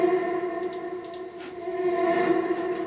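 A sustained tonal drone from a reversed tonal effect in a dance music track, with swelling, reversed-sounding texture and a washy reverb tail, steady and fairly loud with brief airy flickers.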